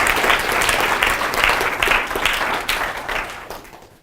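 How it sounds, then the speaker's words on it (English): Audience applause for a sports psychology lecturer at a college psychology club talk, a dense steady wash of many hands clapping that carries on for several seconds and then fades toward the end. "Dr. Jim Aframo, please give him a round of applause"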